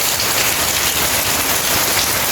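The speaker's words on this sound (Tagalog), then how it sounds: "Sobrang lakas ng ulan guys." Heavy rain pours down steadily, a dense, loud hiss of drops drumming on surfaces close by, continuous with no voices.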